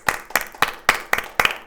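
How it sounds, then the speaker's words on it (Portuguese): Six sharp, evenly spaced claps from a church audience clapping for Jesus in unison, close and crisp, each a quick burst of overlapping hands. "Uma salva de palmas para Jesus."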